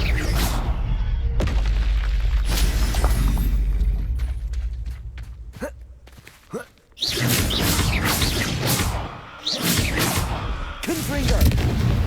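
Spell explosions from the Bombarda curse in Hogwarts Legacy, a fantasy video game, with repeated loud booms and bursts in a dense barrage of combat effects, a short lull midway before the blasts resume.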